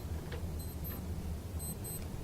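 A wristwatch beeps during a licensing board meeting, giving two short pairs of high electronic beeps over a low hum of room noise.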